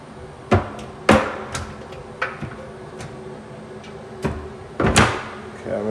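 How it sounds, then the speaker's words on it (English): Cabinet doors open and shut in a series of sharp wooden knocks and bangs, several loud slams with quieter clicks between, recorded close in a room with a murmuring voice in the background. "Cabinets open and close."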